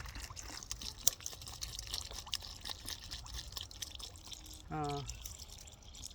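Water is poured into containers set out for wild birds in a summer forest, a brief splashing pour with scattered drips and light handling noises, while a voice speaks briefly nearby.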